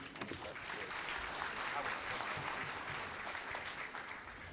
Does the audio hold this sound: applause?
yes